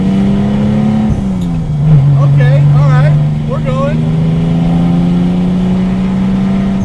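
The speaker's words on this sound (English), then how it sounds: "Oh my God, this car is so loud." A 2JZ-swapped Datsun 260Z rat rod engine idles loud and close, then revs with its pitch dipping and climbing steadily, a heavy droning tone; people talk briefly over it.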